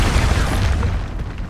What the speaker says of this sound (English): Now, expulso!